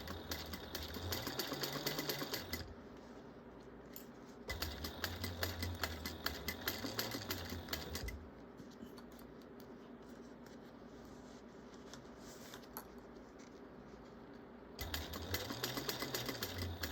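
A sewing machine stitches a bag seam in bursts of fast, close mechanical whirring separated by quieter pauses, with a low motor hum rising and falling at the start and end of each run.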